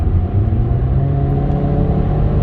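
A 2014 Mercedes-Benz A45 hot hatch pulling hard in higher gears at speed, a steady loud engine drone with strong low rumble and road noise, heard from inside the car without talk.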